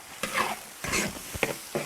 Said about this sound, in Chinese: 锅里牛油倒青红椒和那个洋葱哈